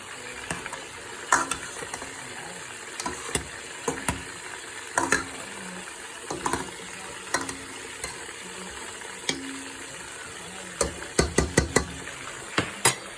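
Vegetables with carrots and a little salt frying in a pan, stirred with a utensil that gives repeated scraping clicks and taps in irregular bursts over a soft continuous sizzle.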